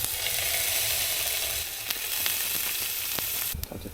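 Salmon fries in a pan at a campsite, giving a steady, close sizzle broken by a few faint clicks and scrapes, with no one talking.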